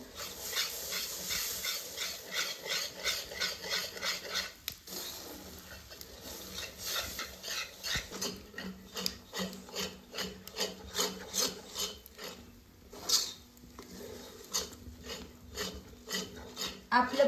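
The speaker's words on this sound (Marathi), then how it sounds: "पीठ वतत असताना आपल्याला सतत मिक्स करत राहायचंय म्हणजे गुटुळ्या होत नाही" Flour batter being stirred continuously in a pot over a village wood-fired stove, a steady rhythmic rubbing and scraping of the spoon against the pot, close and repeated throughout with no talking.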